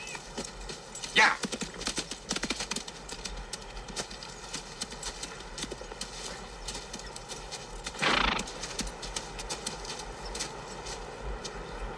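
Horses clip-clop steadily across the ground, with a loud neigh or snort bursting out at about one second and again near eight seconds; talking is heard over the hooves.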